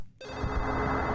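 An old telephone rings in the survival-horror game Silent Hill 4: The Room, a steady electronic bell that starts after a short silence and carries on loud and close with no voices over it.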